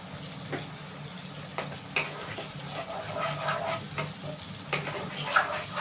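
Turmeric, Kashmiri chilli powder and salt sizzle steadily in a hot pan, with scraping stirs and occasional clinks breaking through a continuous close frying hiss; no one speaks.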